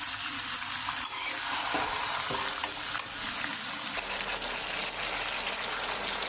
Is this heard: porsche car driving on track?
no